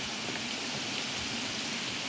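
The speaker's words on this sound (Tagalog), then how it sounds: "Ay naku, umulan na naman." Steady rain falling, a dense even hiss of drops on a surface, constant throughout with no voices.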